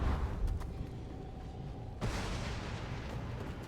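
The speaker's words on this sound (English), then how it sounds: "Smoke bomb!" A smoke bomb goes off in the Minecraft Story Mode video game, a sudden whooshing burst that follows a rumbling, noisy lead-in and trails off in a loud hiss.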